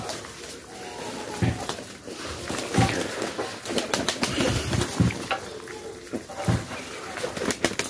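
Sick pigeons confined in a loft after being free-flying give low coos mixed with wing flaps and scuffling. The sound is close and busy, and human voices can be heard faintly at times.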